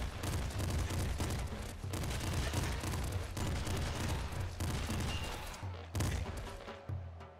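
Golden assault rifle firing in the Nuclear Throne video game, loud, continuous bursts of rapid shots with punchy booms, briefly pausing near the end.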